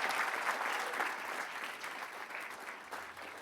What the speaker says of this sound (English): And so if we can give R5 a huge round of applause as well.